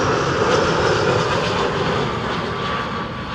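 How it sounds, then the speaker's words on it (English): An EasyJet Airbus A319 jet airliner landing at Amsterdam Schiphol Airport produces a steady, loud engine roar that holds throughout and fades only slightly toward the end, with no voices. "EasyJet A319 arriving from Birmingham."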